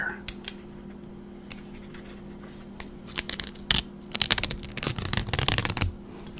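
Sassafras tree leaves being ripped by hand, with scattered soft crackles at first, then a cluster of louder, close tearing and crinkling bursts toward the end.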